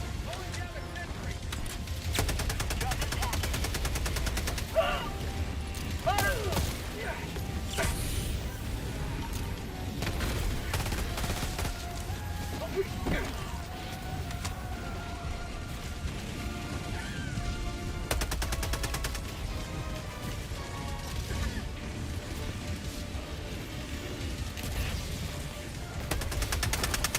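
A video game sentry turret fires in long, dense bursts of rapid automatic gunfire that run almost without pause, loud and close, with voices speaking through the shooting.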